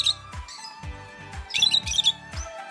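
Lovebirds let out a quick run of sharp, close squawks and chirps, about eight short bursts in under three seconds, clear and with no talking.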